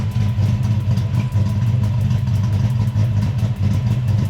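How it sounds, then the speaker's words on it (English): An untuned Coyote car engine idling close by, a loud, steady low rumble with a fast, even lope of pulses repeating throughout, nothing else heard. "This engine, we haven't tuned it yet."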